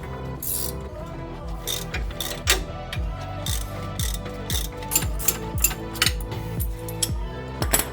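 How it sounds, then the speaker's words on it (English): Ratcheting and metallic clicks from clamps being released during a lift kit install on a Jeep LJ Wrangler, a series of close, repeated ratchet bursts and clanks at an irregular pace, with no talking. "Now we're gonna remove the clamps."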